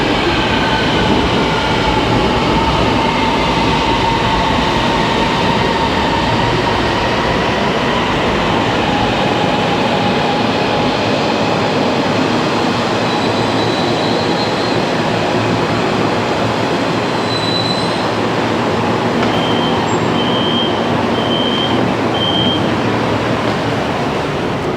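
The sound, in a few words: metro train running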